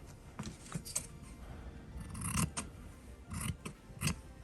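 Scissors snip through folded fabric scraps for a small wallet pouch: a series of crisp, close cutting strokes in an irregular rhythm, each a short rasping crunch, with no talking.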